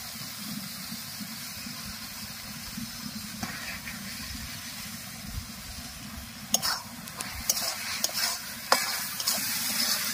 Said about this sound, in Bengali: ঘি দিয়ে আরো 2 মিনিট নেড়ে নিয়েছি